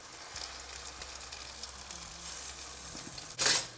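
Potato and paneer kofta balls fry over high heat in a pan of oil, giving a steady close sizzle that swells into a sharp, louder crackle near the end.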